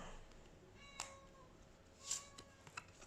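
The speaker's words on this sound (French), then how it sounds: "J'ai mon chat qui râle." A pet cat meows and grumbles in a few short, faint calls spread across a quiet indoor room, with no talking.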